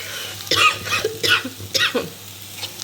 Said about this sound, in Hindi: इस वजह से खांसी लग रही है मुझे